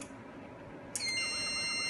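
Alarm on an electric fence energizer for perimeter security suddenly starts after a second of quiet hiss, a sharp, piercing steady electronic tone that holds loud and unbroken to the end.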